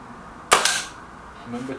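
A single sharp shot from a Kral NP500 air rifle, a close, loud crack with a brief metallic ring-off, followed by quiet and faint voices starting.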